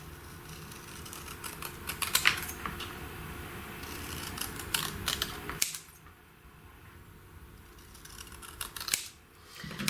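Paper tags for a journaling craft being snipped with scissors, a run of quick crisp close cuts and rustles through the first half, then quieter handling with a few faint snips; no speech.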